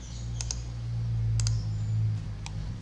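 A few crisp key clicks, two quick pairs and a single tap, of a Ctrl Z undo shortcut on a computer keyboard, close-up over a steady low electrical hum.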